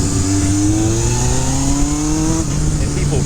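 A 1978 Honda CB750F four-cylinder motorcycle with a Kirker 4-in-1 exhaust drones loudly and close, its engine note climbing steadily as it pulls through the revs.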